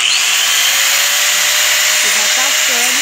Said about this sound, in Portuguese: É que a lixadeira vai aquecendo e vai queimando.